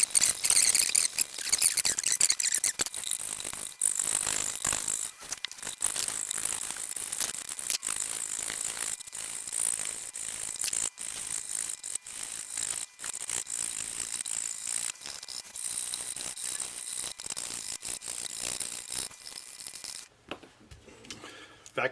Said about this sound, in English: So here we go with scraping.